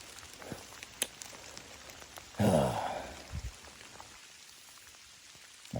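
Heavy rain falling outdoors during a rainstorm, scattered drops tapping close by with soft patter, a breathy rustle partway through, no talk.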